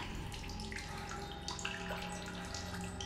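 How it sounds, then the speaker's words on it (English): Water in a cave in The Solus Project runs and splashes in a steady, moderately faint stream, like a trickling flow with small drips, alone with no talk. "Water. Let's drink some."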